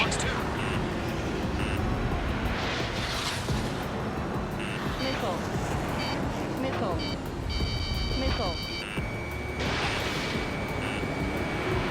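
A fighter jet in Ace Combat 7 drones with a continuous loud engine roar, layered with cockpit warning tones and electronic beeps while a voice speaks over it.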